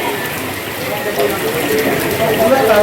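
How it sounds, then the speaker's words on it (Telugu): Heavy rain pouring down in Hyderabad, a constant loud patter and splash on surfaces that grows slightly stronger, with voices faintly mixed in. "హైదరాబాద్ మొత్తాన్ని వాన భేభత్సం సృష్టించింది"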